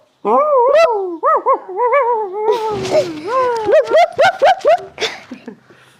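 A voice imitates a dog barking as part of an animal-call game, producing a run of short, rising bark-like yelps and whimpers, close and loud, in quick succession across several seconds.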